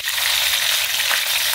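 Chicken pieces frying in hot oil for a soy-sauce chicken dish, a continuous bright crackling sizzle, close and steady, with no talk over it.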